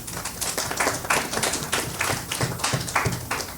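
A small audience at the opening of a court annex claps in sharp, distinct hits, close by and fairly sparse, with individual handclaps audible in an uneven rhythm.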